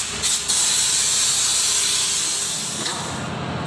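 A pressure washer sprays water over a car engine bay, a loud continuous hissing jet that runs almost unbroken for nearly four seconds.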